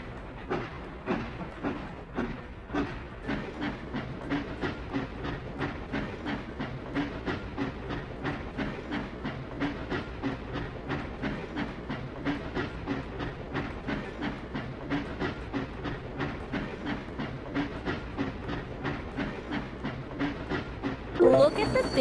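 A cartoon train in a railway repair video game rolls into motion, its steady clickety-clack beat looping evenly over a low rumble and hiss, with a brighter burst of game sounds at the very end.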